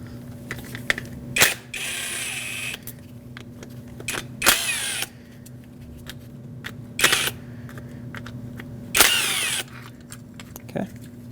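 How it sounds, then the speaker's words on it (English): Hand ratchet with a T25 Torx socket working the three fasteners holding the window regulator motor on a 2006-2014 Lexus IS250, heard as several short bursts of rapid clicking separated by pauses, close and alone over a steady background hum. "Use a T25 torque socket and remove these three fasteners"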